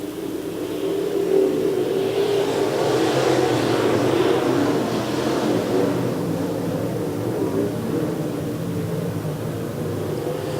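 IMCA modified race cars circling Cottage Grove Speedway in a Race of Champions, with a three-car fight for the lead, make a loud, steady, continuous engine roar that swells slightly midway, with no voices.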